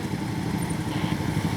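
Several motorcycle engines idle and rumble steadily as participants arrive at an outdoor inauguration gathering, a loud, continuous, close mechanical drone with no break.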